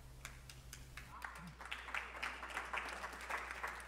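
A church congregation applauds after an announcement at a Sunday service, a moderate burst of many hands clapping that swells after a quiet start and carries on steadily over a low background hum.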